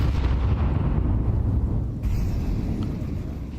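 Stacked grenades exploding in Counter-Strike 2 during a live esports match, a dense rumbling blast that holds loud and then tails off, heard under the ongoing map ambience.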